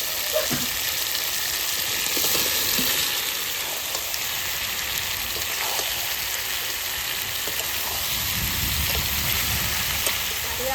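Chunks of young jackfruit and potato fry in rendered goat fat, making a steady rain-like sizzle with occasional light stirring knocks, moderately faint and continuous throughout.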